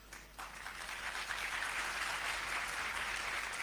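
An audience applauds during a speech by Hafiz Naeem. After a short quiet opening, the sustained crowd clapping rises and carries on evenly at a modest, somewhat distant level.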